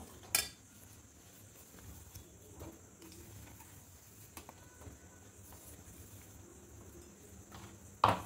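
Peanut powder stirred into hot sugar syrup in a pan for peanut barfi (shengdana katli): a faint, steady scraping with a few sharp spoon clinks at the start and end.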